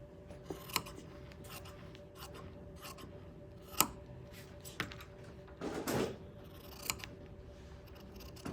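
Scissors cut away excess fabric for a wrap skirt in a few separate snips and slides, fairly quiet, with light rustling between cuts.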